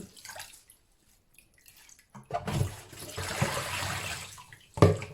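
Water draining off washed wild vegetables, a splashing pour after a quiet pause, running for a couple of seconds with drips and a final splash, close by.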